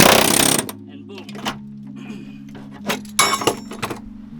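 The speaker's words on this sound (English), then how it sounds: "if you bring an air hammer over here, instead of going back over with the plasma cutter, put the air hammer in" An air hammer breaks away a plasma-cut car floor on a Lexus LS400 during a floor and frame raise, giving sharp metallic hammering bursts and clanks with a low steady hum between the hits.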